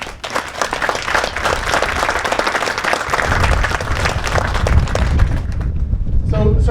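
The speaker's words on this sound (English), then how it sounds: "You'll join me in a round of applause." Audience applause at an Army National Guard field artillery retreat and welcome ceremony, a steady, dense clapping that swells toward the end, with voices mixed underneath.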